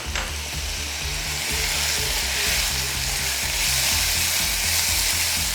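Chili pieces stirred in hot frying oil, a loud continuous sizzle and crackle with scraping stirring strokes underneath and a steady low hum.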